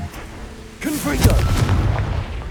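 A Confringo spell going off in the Hogwarts Legacy video game: a sudden booming burst with crackling debris that fills the rest of the moment, loud and close, following a quieter stretch.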